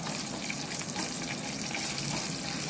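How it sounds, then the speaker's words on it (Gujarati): Mustard seeds pop and sizzle in hot oil as tempering with curry leaves cooks for a chickpea street-food dish, a dense, constant crackling hiss heard close up without talk. "રાઈ ફૂટવા લાગી છે."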